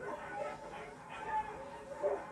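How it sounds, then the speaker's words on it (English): Excited sled dogs being harnessed for a race, whining, yipping and yelping in a continuous, restless chorus with no clear gaps. "The dogs really get excited when I'm harnessing them"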